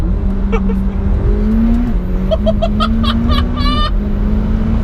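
McLaren 720S engine pulling hard under acceleration, a loud, steady rising drone with gear-change dips, close and dominant throughout.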